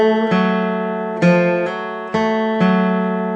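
Guitar plucking a short slow phrase of four to five notes from a song's solo, each note ringing distinctly, close and unaccompanied.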